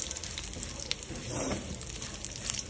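Grated coconut frying in a pan gives a steady, soft sizzle with light crackles and a gentle stirring swell midway, with no voices.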